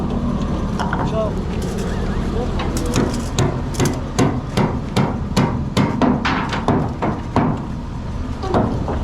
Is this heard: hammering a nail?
yes